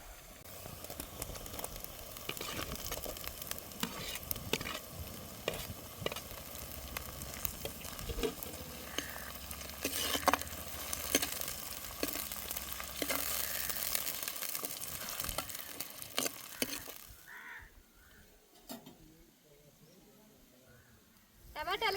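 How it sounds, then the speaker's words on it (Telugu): Tomato pieces fry in oil in a pan for a dry mutton curry, a soft crackling sizzle with stirring clicks running beneath a person talking, then the sound drops away near the end. "ఇప్పుడు టమాటా ముక్కలు వేస్తున్నా."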